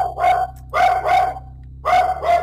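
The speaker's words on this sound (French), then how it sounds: "les chiens des voisins là" Neighbours' dogs barking in three separated bursts of two or three sharp barks each, fairly close and loud, with quiet gaps between and a low steady hum underneath.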